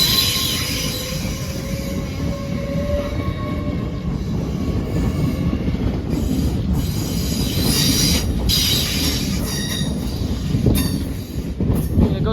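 An Hull Trains Paragon service, a Class 803 bound for London King's Cross, rolling through Doncaster station, with a continuous rumble of wheels on rails and intermittent high squeals from the wheels.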